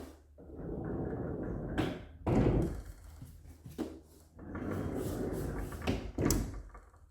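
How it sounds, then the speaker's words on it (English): Blue sliding barn doors in a house rolling along their track, a rumbling slide followed by knocks and thuds as the door stops, repeated twice, close and fairly quiet. "Blue barn doors in this house."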